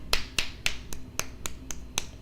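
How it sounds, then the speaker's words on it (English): A run of crisp finger snaps, about eight of them at a steady, fairly quick rhythm, close and clear with no talking. "I think poetry clapping is more like"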